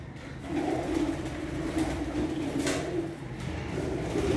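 Soft, low pigeon cooing carries on steadily at moderate distance as pigeons come to feed on grit, with faint rustling in the background.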